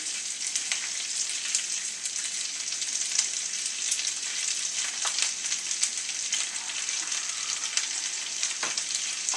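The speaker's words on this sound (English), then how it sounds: "And now we add the rice, because the key element of any fried rice would be rice." Rice scooped with a wooden spoon fries in a pan with bacon and garlic, a close continuous crackling sizzle with scattered spoon taps and scrapes, no voices.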